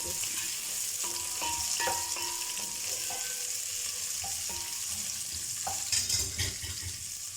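Onions frying in a pan for aloo gosht curry, a steady close sizzle with clinks and scrapes of a utensil against the pan.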